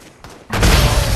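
A single sharp sniper rifle shot from Fortnite, a video game, cracks loud and close after a brief quieter lead-in, with a dense burst of noise that rings on to the end.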